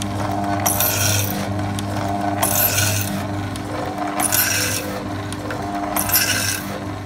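A file sharpens the teeth of a Disston tenon saw, giving bursts of harsh metallic rasping that come in a slow, regular rhythm of about four strokes, close and loud.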